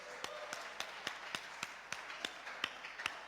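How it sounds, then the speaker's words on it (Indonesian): A church congregation claps in a steady, evenly spaced rhythm of sharp hand claps, moderately distant and fairly faint, with no talking. "Tepuk tangan untuk Tuhan."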